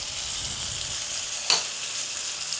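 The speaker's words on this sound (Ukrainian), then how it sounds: "Легенько прогріли, додамо вершкове масло" Butter sizzling in a pan with toasted flour, a steady soft frying hiss heard close, broken by one brief sharper crackle of the spoon or pan midway.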